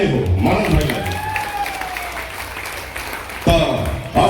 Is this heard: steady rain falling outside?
no